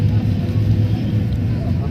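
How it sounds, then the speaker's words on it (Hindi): A vehicle pulls into a parking spot inside a compound during a trip to Taif, giving a steady, close low engine rumble with a dull drone throughout. "अभी हमारी गाड़ी अंदर पार्क हो रही है"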